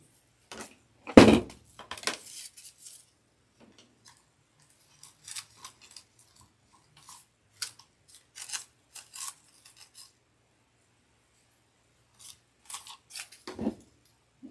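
Scissors snip and trim material for a Dollar Tree coffee pod holder craft, with one loud close cut near the start and then scattered lighter snips and rustles, separated by quiet gaps and ending in another firm cut.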